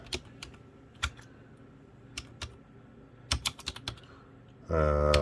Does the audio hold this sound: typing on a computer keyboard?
yes